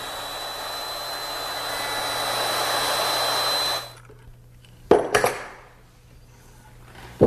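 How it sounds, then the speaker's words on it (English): A handheld wood router cuts dovetail pins along template fingers, a loud steady high-pitched whine for about four seconds that then stops, followed by a few sharp knocks and clatters in the quiet. "I score the outside face of the board and then cut first against one side of a template finger and then"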